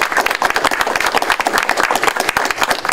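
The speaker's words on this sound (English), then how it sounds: "How about a round of applause?" Crowd at a community cluster talk in an elementary school gives a loud round of applause, many hands clapping close by in a dense, lively rhythm with no one talking over it.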